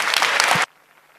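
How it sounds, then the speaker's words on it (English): A hacker-conference crowd at 34c3 applauds loudly as the Nintendo Switch hacking presenters are welcomed; the dense clapping cuts off abruptly partway through, leaving a quiet room. "Give them a round of applause."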